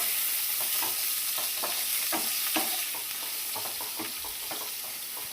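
Onions sizzle steadily in a hot pan with a bright hiss, broken by irregular stirring scrapes and clicks; no voices.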